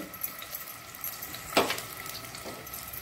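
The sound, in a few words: sliced onion frying in hot oil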